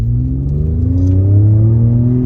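A Ford F-150 EcoBoost pickup accelerates at half throttle, its engine note rising steadily in pitch as it pulls hard, loud and close, with no talking over it.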